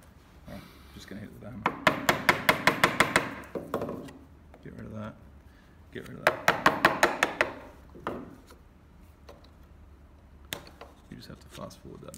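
Steel chisel knocking waste wood out of a hand-cut dovetail joint, heard as two bursts of rapid, close wooden taps separated by quieter stretches where someone talks.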